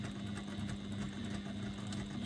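Sewing machine running continuously as it stitches back over a seam, a steady rapid hum with a fast mechanical rattle, close and alone.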